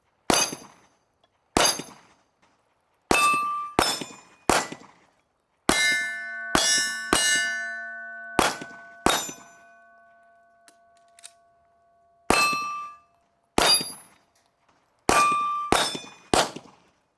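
Rifle rounds strike AR500 steel silhouette targets in a series of loud, sharp metallic clangs with ringing tails, about a dozen hits spaced irregularly, some closely paired, with a few long resonant rings sustaining between impacts.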